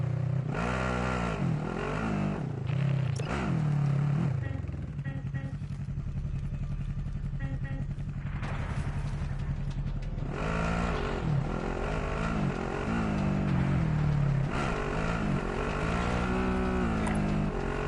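A car engine drones steadily while driving in a PS4 racing game, revving up and down with shifting pitch throughout, loud and continuous, with occasional clatter.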